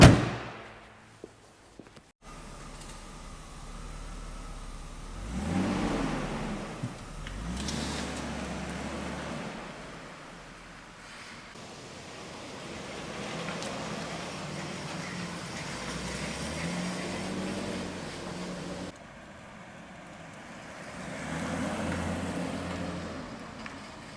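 A 1995 Mercedes E 320 cabriolet with a four-speed automatic drives along a road, its steady engine and rolling road noise swelling and easing with a few brief gear-change dips, heard from inside the car.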